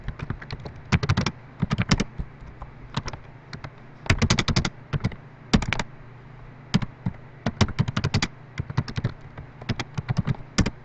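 Typing on a computer keyboard: bursts of quick, close key clicks separated by short pauses, with no voices.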